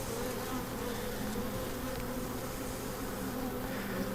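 Honeybees swarm around an opened hive during a colony split in Vermont, a steady close buzzing drone holding for several seconds with no voices.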